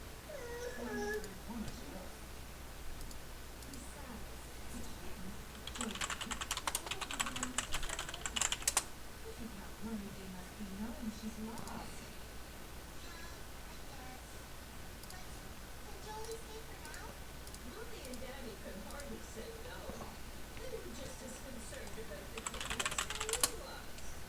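Quiet bursts of typing on a computer keyboard come in two short clusters against a low background hum, with faint sounds scattered in between.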